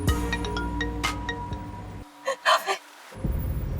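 Phone ringtone from an unknown caller, a series of short melodic electronic tones that repeat for about two seconds, followed by brief sounds and then a near-silent gap.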